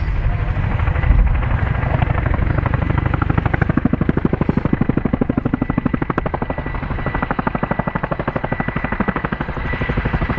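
Helicopter at the RAF Cosford Airshow 2025, a loud, steady rotor thump with rapid regular blade slaps that grow more pronounced as it holds close overhead, heavy engine rumble throughout, no talk.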